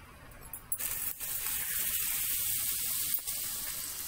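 Butter melting into hot oil in a pan, a soft hiss that rises after a small clatter and holds as a steady close sizzle for a few seconds.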